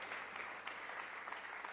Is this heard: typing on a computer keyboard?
no